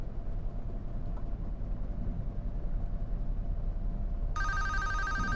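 A telephone rings inside a Five Nights at Freddy's–style horror video game, a harmonic electronic bell bursting in near the end over a steady low droning hum of the game's ambience.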